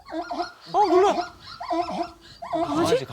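A voice imitates a puppy whimpering and yipping during a Korean late-night ghost-story broadcast: several rising, whiny cries in short bursts, close and clear, told as eerie sounds heard in a dark forest.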